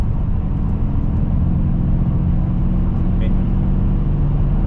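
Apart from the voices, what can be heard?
Mercedes AMG E63 twin-turbo V8 engine at 2,500 RPM, fifth gear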